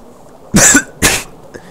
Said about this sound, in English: And that was me coughing.